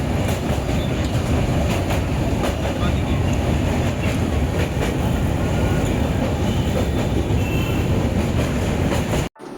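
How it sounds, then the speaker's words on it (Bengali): Uttar Banga Express passenger train running at over 120 km/h on the Howrah–Bardhaman chord line, heard from inside as a loud, steady rumble with rhythmic wheel clatter over rail joints. "এরপর আমাদের ট্রেন 120-রও বেশি স্পিড নিয়ে এগিয়ে চললো বর্ধমানের দিকে, হাওড়া বর্ধমান কট লাইনের উপর দিয়ে।"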